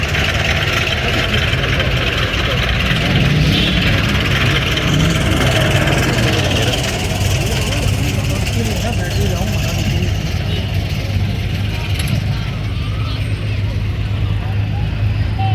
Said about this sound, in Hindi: चाचा अब इसको स्टार्ट कर रहे हैं बाहर जाने के लिए।